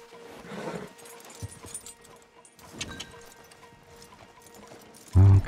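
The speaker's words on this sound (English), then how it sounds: "Javier, you're gonna lead the stallions." In the Red Dead Redemption 2 video game, horses clip-clop along with a few faint hoof thuds over soft ambient game sound, and a loud burst comes at the very end.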